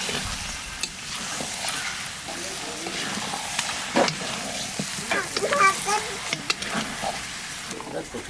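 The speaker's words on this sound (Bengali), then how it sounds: "কষাতে কষাতে কালো হয়ে যাচ্ছে।" Ground cumin, coriander, turmeric and salt fry in a wok, darkening as they cook, with a soft sizzle and intermittent scraping stirs while a voice talks faintly in the background.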